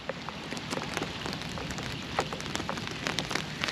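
Heavy monsoon rain falling at the Kali River in Karwar, a steady dense hiss with scattered close drops pattering on surfaces, loud and continuous, no voices.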